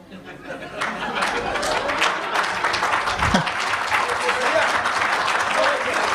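At a Hindi comedy poetry gathering, an audience claps steadily and fairly loudly, with scattered chuckles and murmured chatter running beneath the applause.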